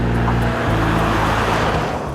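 An Audi Q5 cruises along an open road, a steady, close engine and tire drone filling the cabin for a couple of seconds.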